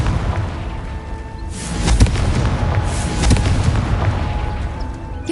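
A Confringo fire spell blast in Hogwarts Legacy, a pair of booming explosive bursts over a steady rumbling game backdrop, loud and close with no talk.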